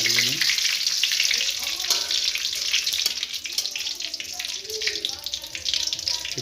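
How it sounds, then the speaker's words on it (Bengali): Bay leaf sizzling and being stirred in hot oil in a pan for Bengali dashi murgi, with a steady bright frying hiss and scattered scraping clinks running throughout, close and fairly loud. "এবার তেজপাতাটা দিয়ে দিন। দেওয়ার পরে কিছুক্ষণ ধরে নাড়িয়ে নিন।"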